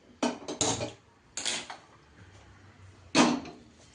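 A heavy-bottomed pot of cotton-seed milk set on the stove, with several close clanks and scrapes of metal on the burner grate and a quieter stretch between.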